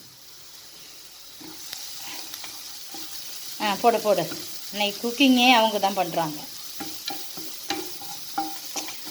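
Children sautéing duck egg fry with turmeric powder in a pan, a low sizzle and scraping stir running steadily underneath adult talk, with clatter from the spatula in the middle stretch.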